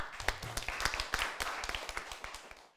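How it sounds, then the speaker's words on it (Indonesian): A small group of secondary school students claps in a history classroom for a presenting group, a quick run of distinct, fairly close hand claps that tapers and fades out over a few seconds. "Mari kita tepuk tangan untuk kelompok 3 dan Kevin dari kelompok 4."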